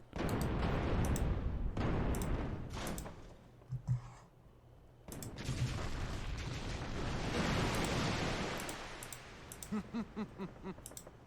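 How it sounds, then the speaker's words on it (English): Repeated booming explosions in Kingdom Hearts II, big rumbling blasts separated by short gaps, ending with a quick series of smaller pops. "So much explosions."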